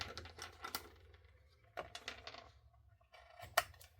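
Scissors make several crisp, quiet snips while trimming paper edges for a card craft, with short clicks in a loose irregular rhythm against a quiet background.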